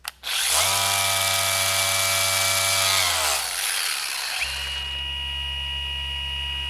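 A loud whirring car paint polisher spins up, runs steadily on the paint of a Brewster Green Porsche 992 GT3 Touring, then shifts to a lower, softer hum as its pitch drops partway through.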